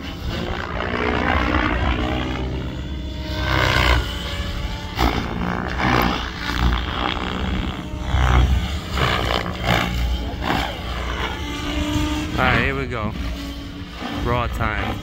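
A Goblin Raw RC helicopter flown low and close with no canopy gives a loud, continuous rotor and motor roar that surges and fades as it passes, with voices talking over it.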